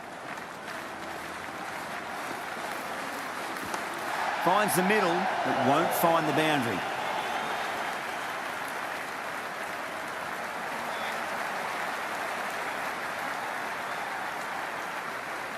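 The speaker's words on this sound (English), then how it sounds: "this crowd is already making it hard for me to be heard" Steady roar of a cricket stadium crowd in the Cricket 26 video game, a constant wash of distant cheering that continues throughout, with a commentator speaking over it partway through.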